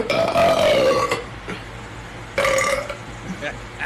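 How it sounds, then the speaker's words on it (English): A woman lets out two close, loud burps in quick succession, the first drawn out over about a second and the second shorter, with faint room noise between them. "Second burp of the video."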